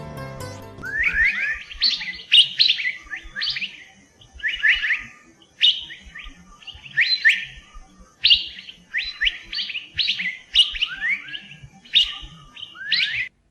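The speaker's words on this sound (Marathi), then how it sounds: "समूहानं वावरताना पक्षी संपर्कासाठी अशी शीळ घालतात." A flock of small wild birds gives repeated clear whistled contact calls, short rising and falling notes in bursts through the whole stretch with brief gaps between them, fairly close and alone with no talk.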